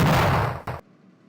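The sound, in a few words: earthquake-like blast sound in the video game Cubemaster 2000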